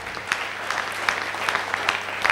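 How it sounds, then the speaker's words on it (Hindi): Steady applause from an audience seated in a hall at a business recognition event, a dense patter of many hands clapping at moderate loudness with a few sharper claps standing out and no voices. "मैं चाहूँगा इनके लिए जोरदार तालियां हो जाए"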